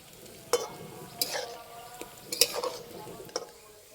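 Fried semolina-and-milk sweets are lifted out of hot oil, with a faint steady sizzle broken by four or five sharp metallic clinks of a utensil against the pan.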